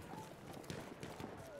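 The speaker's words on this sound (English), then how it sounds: "I hear a horse that is friendly." In the video game Battlefield 1, rhythmic hoofbeats of a galloping horse thud along quietly, with a faint tonal whine drifting in the background.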